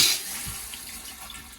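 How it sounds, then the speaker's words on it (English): A Dometic 300 RV toilet flushed with its foot pedal gives a short rush of water that starts loud and bright, then settles into a steady trickling wash, close and alone with no talk. "So the flush, put your foot on the pedal."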